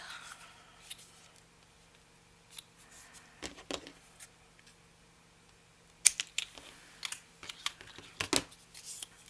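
Scissors trim a folded paper gift tag for a tag booklet, giving a few soft, close snips and rustles scattered through a quiet stretch, with a sharper cluster of cuts near the end.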